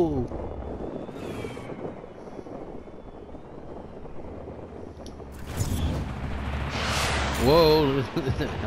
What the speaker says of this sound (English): Whoa, helicopter came out of nowhere.